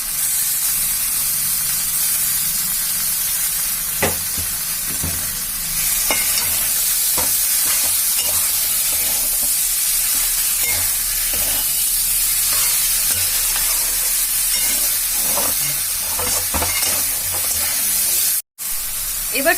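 Chopped tomatoes frying and being stirred in a pan for a Bengali rui fish curry with kankrol and potatoes, a steady loud sizzle with intermittent scraping stirs throughout and a brief break near the end.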